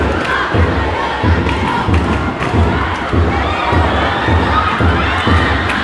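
A crowd of young spectators at a school games final shouts and cheers continuously, loud and dense, with rhythmic thumping beats underneath like drums or stamping.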